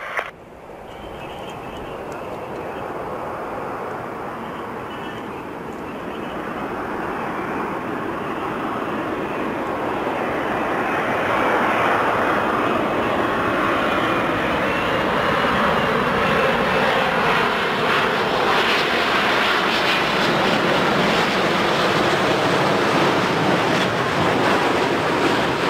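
An airliner comes in to land at Toronto Pearson airport, its engine roar swelling steadily into a broad, loud, continuous rush as it draws nearer, with no voices heard.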